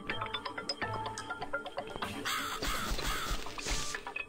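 Crow caws inside the horror game The Cat Lady, several harsh calls clustered in the second half over ongoing game music and ambience, moderately loud.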